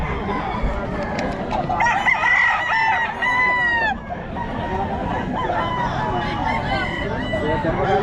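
Chickens and roosters at a poultry market in Bocaue, with repeated rooster crows rising over constant clucking and a busy crowd of voices chattering throughout.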